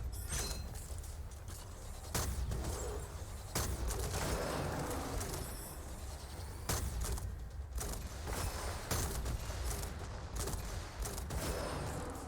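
Rapid bursts of gunfire from guns in the video game Gunfire Reborn, repeated sharp cracks in quick clusters over a constant background of game noise.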